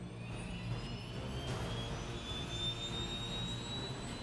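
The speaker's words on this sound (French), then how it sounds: "Il est 22 heures, l'hélicoptère décolle." A medical rescue helicopter lifts off at night with a steady, high turbine whine that slowly rises in pitch over a low engine drone, sounding moderately distant and fairly quiet throughout.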